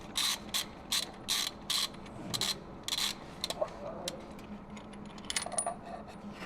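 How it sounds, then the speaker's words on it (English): Ratchet wrench clicking in quick bursts while spark plugs are backed out of an abandoned police car's engine, with sharp metallic ratcheting runs followed by softer rattles and handling noises, close and alone. "We've removed the oil filter and now taking out the spark plugs."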